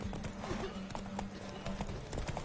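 Hooves clip-clop in a quick steady rhythm as a horse sets off in a race in the video game The Witcher 3: Wild Hunt, with a faint game voice and a low hum running underneath.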